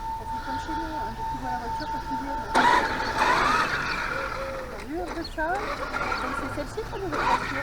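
A Traxxas X-Maxx RC car with an 8S setup: a steady high electric whine gives way to a louder burst of motor noise and rolling, with pitch sweeps as it speeds up, while people chatter nearby.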